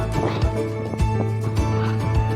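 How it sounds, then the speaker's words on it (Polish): Hooves clip-clop in a steady rhythm as a horse moves around an arena during a jumping lesson, with snorting breaths mixed in and moderate loudness throughout. "Jest żwawiutki konik. On sam teraz się niesie."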